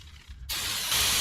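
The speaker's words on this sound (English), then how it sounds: "I'm gonna go ahead and spray this whole area down with a little bit of brake clean" Brake cleaner sprays from an aerosol can onto the clutch area of a Mitsubishi Evo X, a sudden close hiss that starts abruptly and grows stronger, with no talking.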